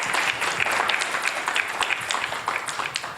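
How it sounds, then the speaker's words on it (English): Applause from an audience at a Caribbean artificial intelligence forum, honoring debate participants; dense, steady clapping from a sizable crowd fills the short stretch at an even level with no talk. "let's give our participants one more round of applause"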